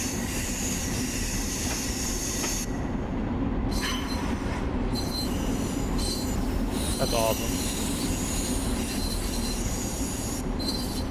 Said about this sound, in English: We have an M3 pulling into the station.